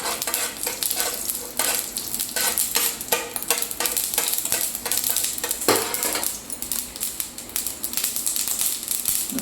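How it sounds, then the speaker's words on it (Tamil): Mustard seeds spluttering in hot oil while making chilli bajji, rapid crackling pops over a steady sizzle with the clink of a metal spoon and pan, close and fairly loud. "எண்ணெய் வந்து காஞ்சோன்னே கடுகு வந்து கொஞ்சம் பொரிஞ்சு வைக்கணும்."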